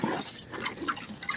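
Banana water poured onto the soil around a tomato plant, a soft close splashing and trickling that pulses unevenly, with no talking.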